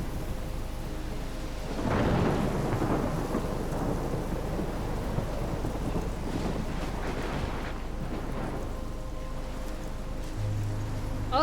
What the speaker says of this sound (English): Oh, look at that big old storm.